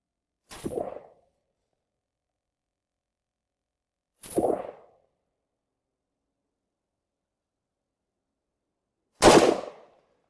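A Zastava M76 rifle fired three times as separate sharp shots, the first two close together and the third after a longer gap, each followed by a brief decay into silence.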